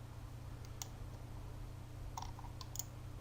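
Soft mouse clicks saving a file in Photoshop, a handful of faint, sharp taps spaced over a low steady hum of room or computer noise.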